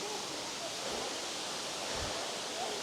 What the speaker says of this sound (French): Et la cascade, ben, elle est magnifique.